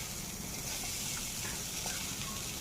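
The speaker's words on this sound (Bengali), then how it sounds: "আর এই শুকনো কড়াইতে আমি পেঁয়াজ দিয়ে দেব" Chopped onion sizzles in a dry wok over a lit stove, a steady, close hiss of frying that runs unbroken and fairly quiet throughout.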